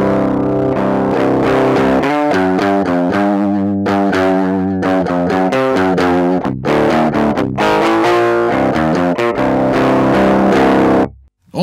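An electric guitar played through a DI box into amp distortion rings out loud and continuous, with sustained overdriven chords and shifting notes filling the whole stretch before cutting off abruptly at the end.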